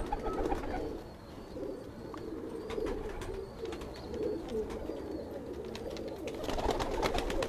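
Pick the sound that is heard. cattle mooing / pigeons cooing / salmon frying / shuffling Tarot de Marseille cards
pigeons cooing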